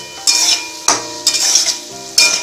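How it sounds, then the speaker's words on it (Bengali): Spices for a dal tadka stirred in a pan over a low gas flame, with several bursts of scraping and sizzling at an uneven rhythm, close and fairly loud. "এটাকে আমি এখন নাড়বো।"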